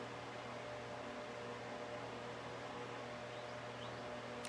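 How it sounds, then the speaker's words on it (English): Steady electric fan running in a room, a continuous broadband whir with a low hum, fairly faint and unbroken with no talk over it. "There is a fan that's on."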